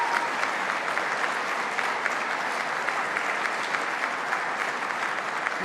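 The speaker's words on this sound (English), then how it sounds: "Let's give them a round of applause." Sustained audience applause for winning communities at a Western New York public event, an even, continuous spatter of many hands at moderate distance, holding steady for several seconds without speech.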